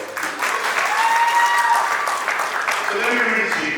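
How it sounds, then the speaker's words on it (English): Graduation ceremony crowd claps in a steady, dense round of applause that fills the hall at moderate loudness, with some faint tonal sounds and voices briefly mixed in near the end. "Please give my round of applause."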